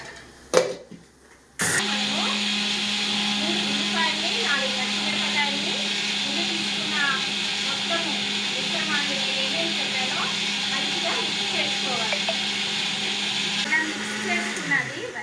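A kitchen mixer grinder blends a cumin spice paste for a home-style fish curry. After a brief pause it starts abruptly and whirs loudly and steadily for about thirteen seconds, with faint talk beneath, then cuts off.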